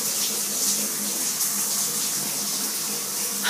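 Steady hiss of water spraying from a shower head rigged with a chicken bouillon cube as a prank, running continuously and fairly close with no talk over it.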